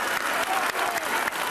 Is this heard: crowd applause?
yes